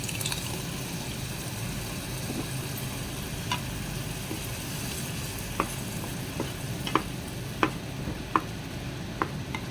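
Ground spice chutney (sidal chutney) frying in a pan, a low, steady sizzle with intermittent soft clicks of stirring toward the end, close and quiet, with no one speaking.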